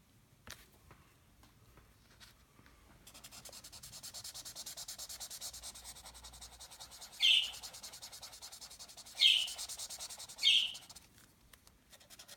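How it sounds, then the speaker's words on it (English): A pet budgie lets out three short, sharp chirps over a soft, steady rubbing sound of coloring on paper in a quiet room. "I have a budgie and she will make noise"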